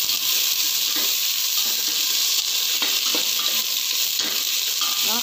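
Garlic frying in a pan for pork caldereta gives off a loud, continuous bright sizzle up close, with light scrapes and taps of a utensil stirring now and then.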